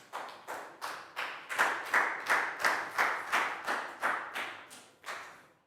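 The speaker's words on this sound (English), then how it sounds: "High five and a big round of applause for Prau," A small classroom group claps in a steady rhythm, about a dozen even beats in a row, moderately close with no talking over it.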